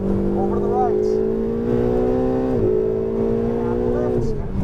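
A Ferrari engine accelerates on a driving course, its steady rising drone climbing in pitch for several seconds before a brief dip and another climb, loud and close, with an instructor's voice talking over it.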